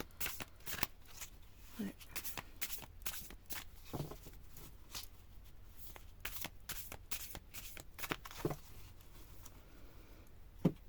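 Large tarot cards shuffled by hand at close range in repeated riffling bursts, with a brief spoken word in the background.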